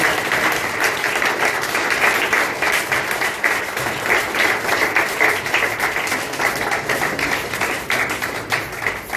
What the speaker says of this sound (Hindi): आइए हम एक बार फिर से तालियों के साथ परमेश्वर का